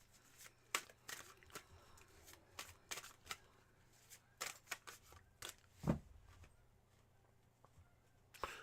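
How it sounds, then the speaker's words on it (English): Tarot cards are shuffled in a rapid series of crisp riffles and flicks, short bursts coming in an uneven rhythm, close and fairly quiet, with no voices. "Cleansing shuffle. I know I did one already, but I kind of feel like it needs another one."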